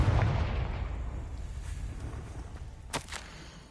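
Confringo fire spell in Hogwarts Legacy bursting with a deep booming blast at the start, rumbling tail, then a couple of sharper cracks later, fairly faint overall.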